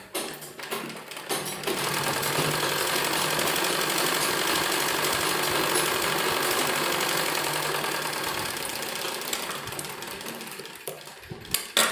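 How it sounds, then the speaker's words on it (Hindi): Sewing machine stitching a narrow seam along the edge of a bell sleeve, running steadily and fairly loud for about ten seconds after a brief start, then slowing and stopping with a few clicks. "यहाँ बारीक बारीक किनारे पर सिलाई लगाएंगे"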